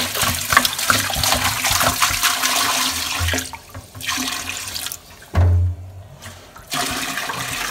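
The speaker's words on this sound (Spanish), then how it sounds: "Vamos a echar su agua, mira." Water gushes into a pot holding pig's feet, a continuous splashing rush that drops out briefly twice before resuming, heard alone and close.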